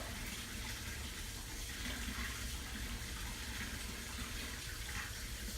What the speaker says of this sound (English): I'm filling up the jar about halfway with water